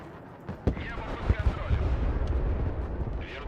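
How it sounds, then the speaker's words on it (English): A 40mm grenade launcher in the strategy game Broken Arrow fires a string of deep, muffled thumps and rumbling blasts at mid distance, mixed into a steady battlefield roar while someone talks over it. "That's an interesting AA piece, isn't it? The 40mm grenade launcher."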